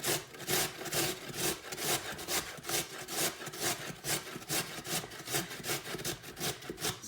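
Carrots are grated against a grater in quick, rhythmic rasping strokes, about two to three per second, close and moderately loud, with no talking.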